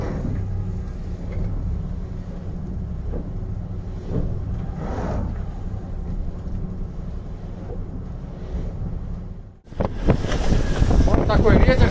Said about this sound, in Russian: Вот такой ветер сегодня.